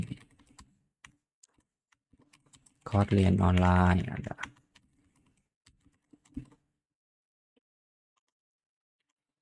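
Rapid clicking keystrokes on a computer keyboard come in scattered bursts across the span, with a short stretch of a man's speech partway through.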